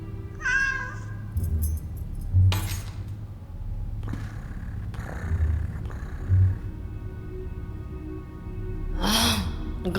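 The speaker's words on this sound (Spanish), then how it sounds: "¡Ah! ¡Gato pisado!" A cat lets out several loud, strained meows and yowls in short bursts, like a stepped-on cat, scattered across the stretch with brief pauses between cries.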